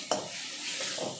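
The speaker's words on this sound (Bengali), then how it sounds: "এখন সব কিছু ভালোভাবে মিশিয়ে নিয়ে মশলাটা কষিয়ে নেব।" Brief stirring of a turmeric and chili powder spice masala frying in a pan for a Bengali baul fish kalia, with a soft sizzle and a couple of scraping strokes, close and alone.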